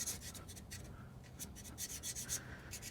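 A carbide scraper rasps old gasket material off the bolt holes of a GM 14-bolt 9.5-inch rear axle housing, producing quiet, close, repeated short scraping strokes in an irregular rhythm.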